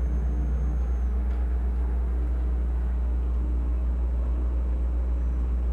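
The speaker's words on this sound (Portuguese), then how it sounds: "O ônibus é bem silencioso, moçada. O barulho dele é bem... bem mais silencioso que o caminhão, né?" Quiet bus engine in the Euro Truck Simulator 2 driving game, a low, steady droning hum with a faint whine on top, constant and unbroken throughout, no talk.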